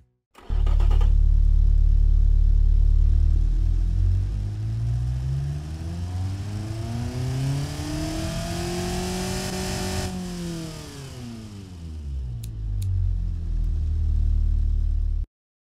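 Pickup truck engine in the Automation car game revving up toward its roughly 5,700 RPM redline, pitch climbing steadily, holding high, then falling back before a final rise, close and loud with no talk.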